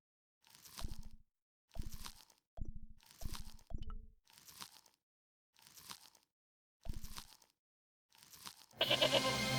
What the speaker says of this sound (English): It was the fiercest, meanest-looking old goat I'd ever laid eyes upon.